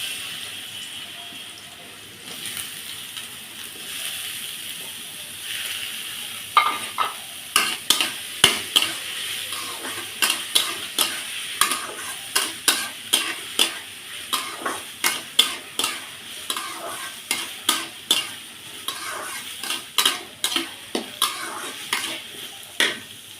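Chopped papaya being fried with cumin in a pan: a steady sizzle runs throughout, joined after a few seconds by a regular series of sharp scraping stirs from a spatula, close and fairly loud, with no talking.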